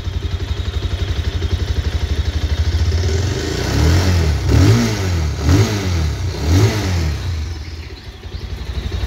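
A Bajaj Pulsar 220F motorcycle engine, a 2023 BS6 model, idles with a steady close throb, then is revved hard several times in rising and falling sweeps before settling back to idle.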